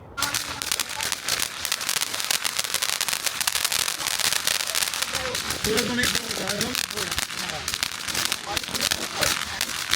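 Dense, rapid crackling and popping of firecrackers going off nonstop during Diwali celebrations, loud and close, with voices faintly mixed in.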